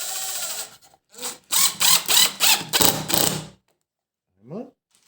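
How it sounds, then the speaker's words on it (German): Power screwdriver driving screws into wood in a woodworking CNC workshop, a run of several short whirring, ratcheting bursts close by, followed by silence and a brief rising whir at the end; a voice is heard briefly. "Da machen wir jetzt ein paar Schrauben rein."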